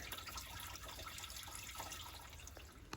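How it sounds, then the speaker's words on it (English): Antifreeze coolant drains from the engine of a 2016–19 Chevy Suburban 5.3L during water pump replacement, a faint steady trickle and patter of liquid in a quiet garage. "the antifreeze will pour out a heck of a lot faster"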